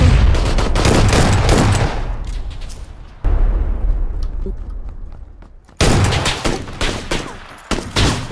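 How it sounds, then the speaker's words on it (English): Gunfire in the battle royale game PUBG, loud bursts of rapid shots in three separate runs, each fading into a decaying echo, with no talk. "Oh, I shot him right in the chest."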